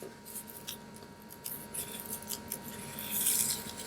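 Scissors snipping through a traced paper pattern for resin snowman coasters, a run of soft, close crisp cuts that grow denser and louder near the end, with no talking.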